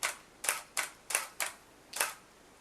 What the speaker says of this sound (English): the obvious shutter button right there that lets you take the picture